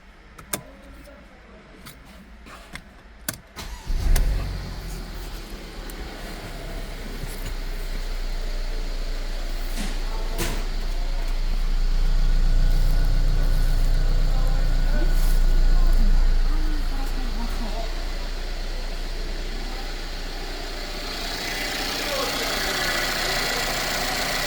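A Mercedes M274 engine in a Japanese-import car with 52,000 km is cranked and fires up after a few clicks, then settles into a smooth, steady idle with a brief rise in revs midway, heard close up.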